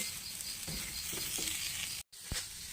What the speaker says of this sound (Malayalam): നമുക്കപ്പോൾ ഇത് പാവക്ക കൂടി ഇതിനകത്തേക്ക് ഇട്ട് കൊടുക്കാം കേട്ടോ. ഇതൊന്ന് ഇളക്കി മിക്സ് ചെയ്തിടാം.